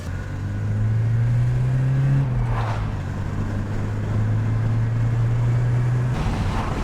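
A Porsche 944 engine running on a drive after an injector fix, producing a steady, close, loud idle drone that dips slightly in pitch partway through, with faint clatter over the top.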